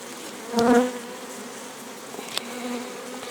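Bees buzzing around hives at an apiary just after the weather has warmed, with one loud close buzz as a bee passes near, then a fainter steady hum of the hive.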